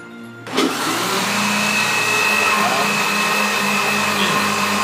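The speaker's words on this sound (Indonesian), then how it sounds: "Kita blender sampai lembut ininya ya" A blender switches on with a sudden roar and then whirs steadily and loudly, blending dates with water into date juice, with no other sound over it.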